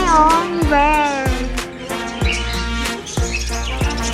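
A pet bird chirps and tweets in rapid, varied bursts, close and fairly loud, with sharp high calls repeating across the moment.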